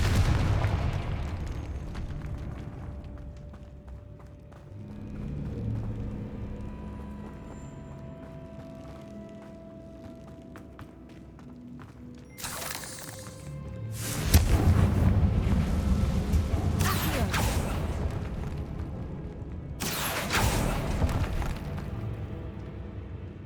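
Confringo fire spell explosions in Hogwarts Legacy on PS5, with deep rumbling booms and sharp bursts breaking over a continuous low game soundscape, several loud blasts clustered in the second half.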